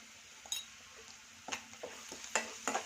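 Onions stirred in a pan with salt and turmeric, a soft scraping stir under a low sizzle with a few sharper clinks of a spoon against the pan; no talking.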